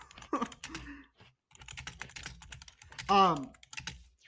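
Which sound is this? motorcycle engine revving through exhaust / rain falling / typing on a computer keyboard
typing on a computer keyboard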